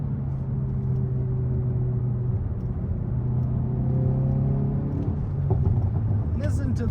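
A 2023 Hyundai i30 N with DCT gearbox in N mode pulls along a road with a deep, steady engine rumble and rising rev tones. Light cabin noise and an upshift are heard near the end.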